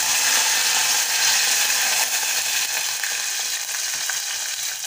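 Mustard seeds, cumin and curry leaves sizzle loudly in hot oil, a dense, steady, hissing crackle close up with no voices.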